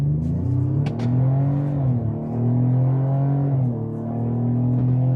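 An SUV's four-cylinder engine growls as it accelerates in sport mode, rising and falling in pitch through a couple of gear changes, heard from inside the cabin with no talking.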